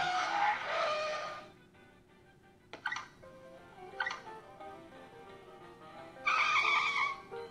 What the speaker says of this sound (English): Drift racing.